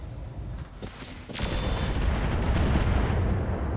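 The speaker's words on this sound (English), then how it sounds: "So I think we're just going to fire improved MRMs here." Improved medium-range missiles launching in the RogueTech mod of the BattleTech game: a dense, rumbling salvo of booms that builds into a sustained, loud roar of overlapping launches.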